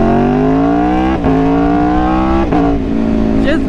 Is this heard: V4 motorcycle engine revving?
yes